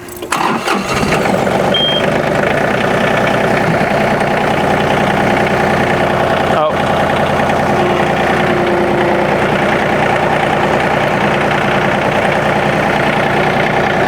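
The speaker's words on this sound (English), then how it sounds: "So we are in low gear right now, and it's quite fast for being low, and it's really stinking loud." A John Deere 2032R compact tractor engine runs loud and steady in low gear, a continuous close droning rumble with a brief dropout midway and no talking.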